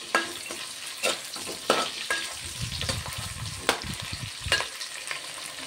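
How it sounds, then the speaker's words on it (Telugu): Curry leaves sizzle steadily in hot oil in a pan while preparing bagara rice, with sharp utensil scrapes and clicks from stirring at irregular intervals, close and clear with no talking. "ఇప్పుడు ఇవి కొంచెం ఫ్రై అవుతున్నాయి కదా, ఇదిగోండి కళ్యామాకు వేసుకుంటున్నా. కళ్యామాకు వేసుకొని ఒకసారి కలిపేసుకో."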